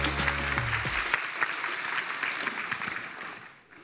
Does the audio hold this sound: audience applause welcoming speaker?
yes